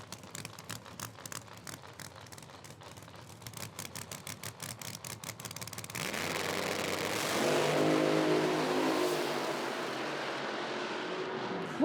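A Pro Nitrous drag race car at an IHRA Outlaw Nitro event in Hebron idles with a rapid, choppy engine pulse, then launches into a loud, sustained roar that rises in pitch as it accelerates down the track and fades away.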